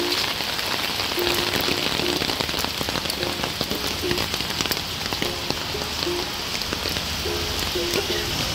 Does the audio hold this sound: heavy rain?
yes